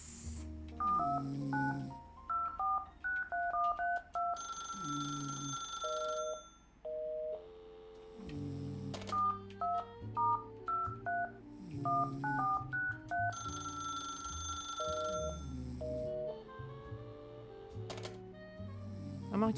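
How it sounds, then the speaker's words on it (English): Telephone keypad tones dialed in a mystery video game, crisp beeps in quick bursts of several digits, pausing between groups, with ringing tones and a synth music bed underneath. "Is Hopper a phone number I can phone?"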